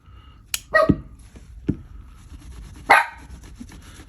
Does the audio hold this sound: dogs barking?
yes